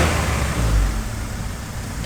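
A Honda B20 engine idles steadily in an EK hatchback, a smooth low rumble running continuously close by, with people talking over it.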